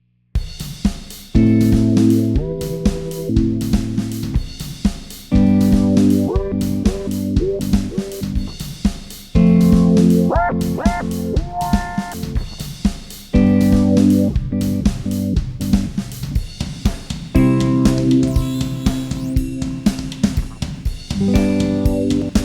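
An electric guitar played through an app-controlled effects gadget with distortion and reverb plays chords and riffs in bursts with heavy effects, the tone shifting between distorted and processed sounds; no voices.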